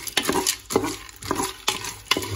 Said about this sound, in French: Là, on mélange le tout.